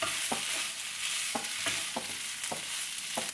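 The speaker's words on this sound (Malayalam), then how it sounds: "നല്ലപോലെ ഒന്ന് ഇളക്കി കൊടുക്കാം." Chicken liver pepper fry is stirred in a pan, with a constant dry sizzle broken by a regular series of sharp spoon scrapes and knocks, close and alone.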